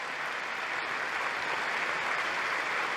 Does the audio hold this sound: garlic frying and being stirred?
no